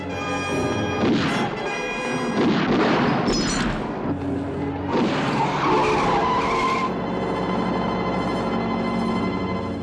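A train brakes hard on a rail line during an ambush in a Gerry Anderson puppet adventure, giving a loud, sustained metallic screech with shifting shrill tones and rumbling bursts over nearly ten seconds.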